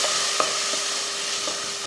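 Rasam powder and spices fry in hot oil as they are stirred, with a steady close sizzle and soft scraping strokes throughout.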